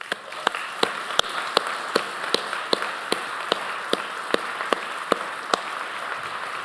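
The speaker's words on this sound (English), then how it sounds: "I would like to extend a nice round of applause" Mourners at a celebration of life memorial service offer a soft round of applause, a light, even patter of clapping with distinct louder claps standing out in a steady, regular rhythm throughout.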